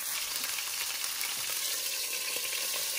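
Pork hitting a hot pan with star anise, cooked for dan dan noodles, sizzles in a steady, dense hiss with faint spatters. The frying is close and loud, runs without a break, and has no talk over it.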